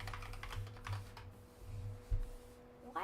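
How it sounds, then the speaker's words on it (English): Rapid clicking keystrokes on a computer keyboard, fairly quiet and steady, with a low electrical hum in the background and no talking. "Why are you typing?"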